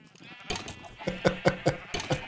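Sheep bleating in Minecraft, several short, close bleats repeating in a quick irregular series over a faint background.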